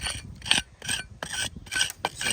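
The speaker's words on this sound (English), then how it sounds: "So we're going to scrape all this off" Crumbly, damp lime mortar is scraped out of deep stone-wall joints beside a window jamb on a cottage, heard as a run of short, close rasping strokes with brief gaps between them.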